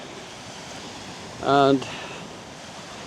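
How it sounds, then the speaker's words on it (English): Waves wash onto a Baltic Sea beach in a breeze, a steady broad rush of surf and wind noise, briefly interrupted by a short spoken word. "So this is Baltic Sea,"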